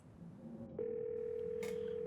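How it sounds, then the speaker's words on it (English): Phone in the game Scarlet Hollow, a short dialing blip followed by a steady electronic tone, faint and heard alone. "You pull out your phone and call."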